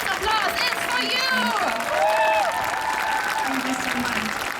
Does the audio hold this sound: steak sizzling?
no